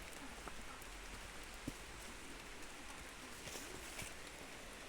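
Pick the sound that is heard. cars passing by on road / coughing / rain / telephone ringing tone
rain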